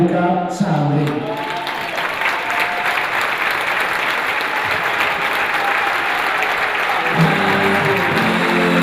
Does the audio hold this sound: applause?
yes